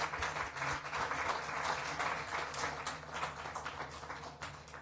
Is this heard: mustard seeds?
no